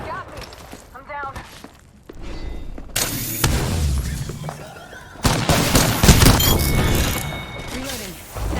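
Apex Legends gunfire comes in bursts: quieter scattered shots first, then dense loud volleys of rapid fire and impacts that pause and start again, with a voice speaking over parts of it.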